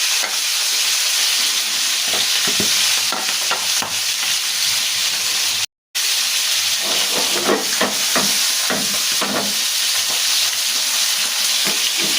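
Food sizzles and hisses steadily as it fries in a hot pan, with intermittent scraping and clinks of stirring and turning throughout and a brief drop-out partway.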